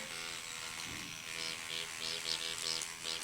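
A Dermapen electric microneedling pen with 11 vertical micro needles runs steadily through a skin treatment, giving a continuous close-up buzzing hum with faint pulsing variations and no talk.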